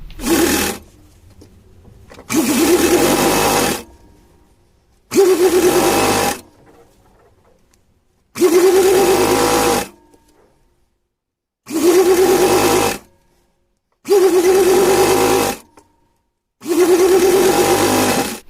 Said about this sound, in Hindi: इसको हम उल्टा रखेंगे और रखने के बाद ये सीधे एक सिलाई लगाएंगे